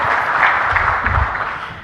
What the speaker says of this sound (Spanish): Y fuerte el aplauso.